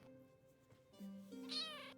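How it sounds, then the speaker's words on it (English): A cat gives one drawn-out, rising meow, fairly close and clear, over a quiet room with a faint background hum. "I have a Welsh cat, everybody."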